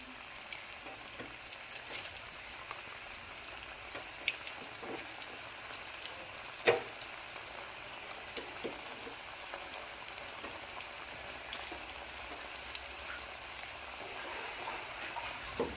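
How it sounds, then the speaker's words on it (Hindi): Hand-dropped potato pakoras fry in hot oil in a wok, a steady soft crackle and sizzle with scattered pops and one sharper splash midway, fairly quiet and close with no talking. "कढ़ाई में मैंने तेल ले लिया है और तेल हमारा गर्म हो चुका है। अब मैं पकोड़े डालूंगी इसमें।"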